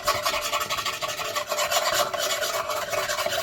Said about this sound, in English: the stuff I just scraped off there is called creosote, along with soot